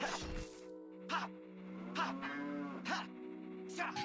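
A cow lows in the Zelda: Ocarina of Time video game, repeated short moos over a steady musical background with layered game sound effects, moderately loud and close.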